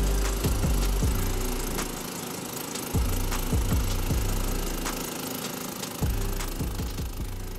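A cheap ATV with huge wheels and all-wheel drive labors through loose sand across a steep-sided ditch, its engine surging in repeated loud revving bursts with sputtering, knocking pulses between them.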